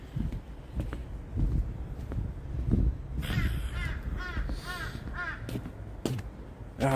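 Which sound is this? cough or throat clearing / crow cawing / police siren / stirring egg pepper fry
crow cawing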